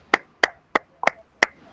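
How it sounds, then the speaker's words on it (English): Five sharp, separate hand claps from a single person, spaced evenly and close to the microphone, with quiet gaps between them, likely on an online event call. "Let's clap for moderator"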